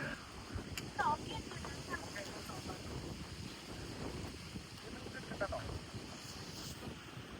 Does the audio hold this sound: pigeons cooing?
no